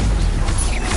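A Stupefy spell is cast in the Hogwarts Legacy video game, a brief, loud, dense magical blast with a heavy low impact and crashing texture, heard alone.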